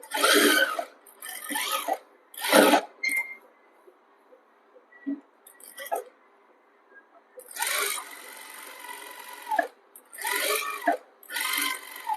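Close-up bursts of a sewing machine stitching the shoulder seam of a panel-cut kurti, several short whirring runs separated by pauses, loud and near, with only faint background sounds in the gaps.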